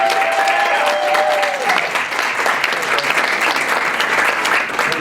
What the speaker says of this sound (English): let's give a big round of applause to our keynote speaker